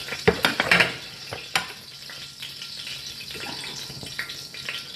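Carrots and potatoes frying in a pan for beef caldereta: a few clattering stirs and scrapes up front, then a soft, steady sizzle close by, with no talk.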